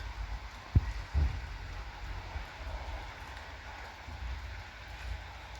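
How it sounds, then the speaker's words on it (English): Steady heavy rain falling outside in a town near a supermarket car park, a constant wash of patter with a couple of brief low thumps early on, no talk. "Oh, flipping heck, look at that rain."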